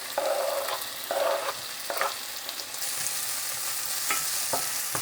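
Onions, tomatoes and jalapeño sautéing in a hot pan for a Filipino sardine dish, a steady close sizzle punctuated by scraping stirs.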